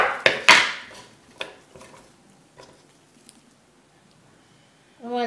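A knife chops a carrot on a cutting board, giving a few sharp close knocks at the start, then scattered softer taps fading to near quiet, with a brief voice at the end.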